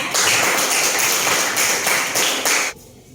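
Students in a classroom clap together in a fast, dense burst of applause that lasts a few seconds, then stops abruptly.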